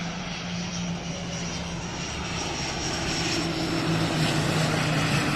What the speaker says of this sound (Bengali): বিমানটি উড়ে আসছে।